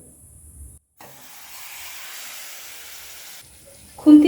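Marinated ingredients with potato dropped into a hot wok, a soft steady sizzle rising after a brief pause and holding for a few seconds, ending in a louder clatter.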